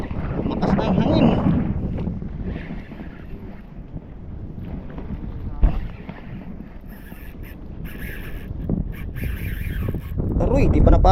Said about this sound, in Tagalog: Makas na ang hangin.